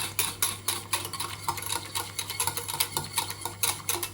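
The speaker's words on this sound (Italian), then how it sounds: "Mettiamo giù e giriamo e non facciamo fare i grumi." A spoon scrapes and swirls steadily through thick béchamel sauce in a pan as milk is stirred in, with quick repeated strokes over a low hum.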